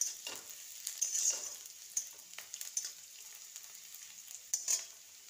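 Chopped ingredients fry in a pan with a soft, continuous sizzle and intermittent scraping stirs, close and fairly quiet, with no voices.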